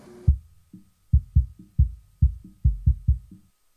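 A punchy kick drum, recorded with the kick-out mic and high-pass filtered around 40 Hz, thumps in a quick, repeating pattern, its low boom thinned out so mainly the tight attack comes through, with no voices.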